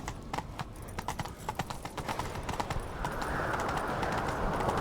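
Hooves of a horse galloping in the video game The Witcher 3 clip-clop in a quick, steady rhythm, then fade under a rising rush of wind-like noise.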